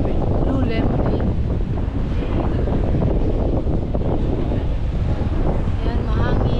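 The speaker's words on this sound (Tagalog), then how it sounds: "Ayan, mahangin." Strong gusts buffet an outdoor microphone beside the Han River in Seoul, a steady roaring rumble with lapping water and faint voices underneath.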